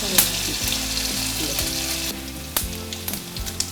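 Garlic and curry leaves sizzle and crackle steadily in hot oil in a pan, with a few sharp pops and light stirring clicks over a continuous frying hiss.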